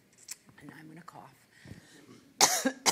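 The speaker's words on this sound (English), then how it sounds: "And I'm going to cough." Sharp, loud coughs burst out near the end after quieter mumbled speech and small mouth noises.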